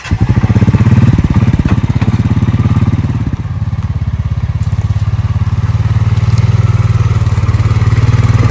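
A Honda motorcycle engine runs close and loud with a rapid steady thumping putter, briefly revving then settling into a constant idle.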